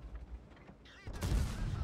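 Tank cannon fire in World of Tanks, with a loud blast and booming rumble after a second of quieter battle noise.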